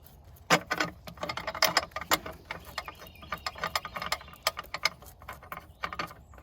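A hand ratchet clicks in quick, uneven bursts while tightening a torque strut bolt on a 2014 GMC Acadia, the pawl rattling close and fairly quiet with short pauses between strokes.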